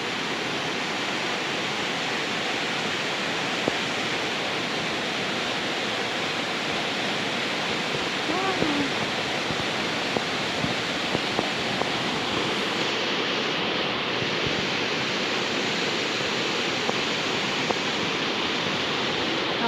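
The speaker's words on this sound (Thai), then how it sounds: "เพิ่นน่ะน้ำตกลงมาจากภูเขาผู้เนาะ" A waterfall tumbles down a mountainside in a cool highland valley, making a steady, full-band roar that rushes on unchanged and close throughout, with no voices.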